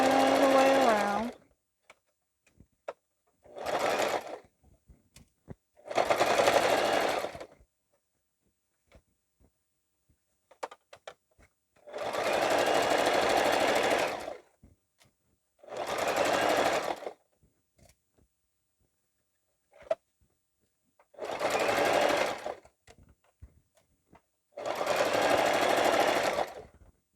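Sewing machine stitching around the edge of a reversible bucket hat, running in repeated bursts of a few seconds separated by pauses, close and moderately loud, with a low voice speaking briefly at the start.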